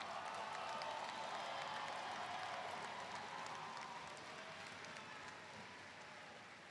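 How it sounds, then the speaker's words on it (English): Audience at a fall 2021 commencement ceremony for a college and graduate school of business applauds in a dense, sustained wash of clapping that slowly fades over several seconds, heard from a distance. "One more round of applause."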